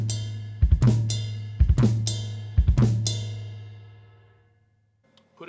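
Three slow drum hits in a practice lick, each with a bright crash cymbal wash over a sustained low tone, the cymbal ringing out and fading before a faint tap at the end.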